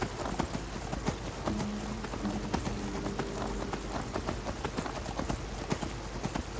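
Horse galloping in Skyrim, a rapid run of hoof clip-clops over a steady rain-like hiss, fairly faint and continuous.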